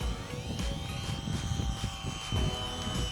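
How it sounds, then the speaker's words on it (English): A HobbyKing Bix3 radio-controlled airplane making a low flyby at an airfield, its small electric motor giving a steady whining drone with shifting pitch, moderately loud throughout. "Give us a nice low flyby."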